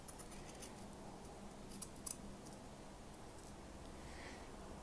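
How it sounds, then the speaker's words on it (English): Scissors trimming fabric seam allowance on a wedding dress waistband, a few faint, close snips and crisp cuts over a quiet room hiss. "So I'm trimming the part behind the seam I just trimmed"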